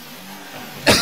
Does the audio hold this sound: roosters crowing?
no